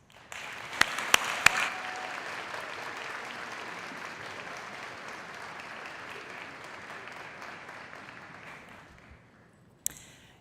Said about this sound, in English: please take a moment to show your appreciation to them with a round of applause